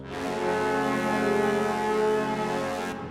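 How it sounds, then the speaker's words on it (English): A sustained, brassy synth horn chord swells and holds steadily for a few seconds, full and buzzy, then cuts off. "the brass comes in here,"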